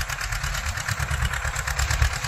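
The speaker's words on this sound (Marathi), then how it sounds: "मग ट्रॅक्टर घरी घेऊन जातो।" A tractor engine idles nearby in a maize field with a steady low chugging throb, moderately loud and even, with no talk.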